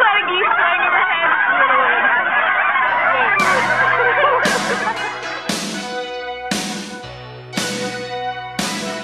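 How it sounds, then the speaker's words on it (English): A flock of geese honks repeatedly overhead, loud bursts of honking arriving in waves over a dense, chattering background of many birds. "geese flying overhead"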